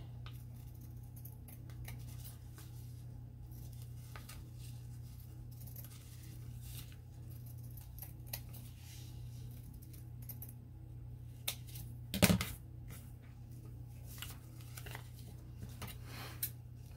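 Scissors trim craft material in a quiet room, giving soft, sparse snips and small clicks over a faint steady hum, with one sharper, louder cut partway through.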